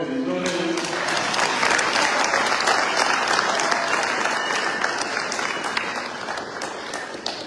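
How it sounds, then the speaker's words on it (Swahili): A large crowd at a Kenyan political rally for Matiang'i and Natembeya breaks into loud, sustained applause that rolls on steadily and eases slightly toward the end, with a voice briefly audible near the start. "tunapiga makofi vizuri"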